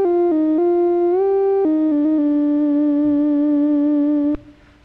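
A Famitracker FDS chiptune waveform plays a sustained buzzy synth tone that steps and bends in pitch, then cuts off with a click and fades into a faint tail, with no voices.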